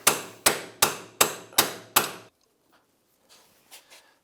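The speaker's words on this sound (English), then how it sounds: "I'd rather go ahead and give it a good hit from out here" Hammer striking a socket extension to drive a prop shaft into a Polaris RZR 900S, six loud, evenly spaced metallic blows close by, then near silence with a few faint clinks.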